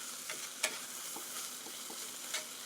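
Salisbury steak sizzling in a CalmDo electric skillet, a soft steady fry with a few light stirring scrapes and clicks scattered through it, heard close with no voices.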